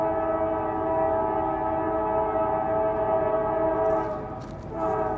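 A Norfolk Southern freight train sounds its horn at length, a loud, sustained multi-tone blast over the rumble of the locomotive, fading briefly near the end before swelling again.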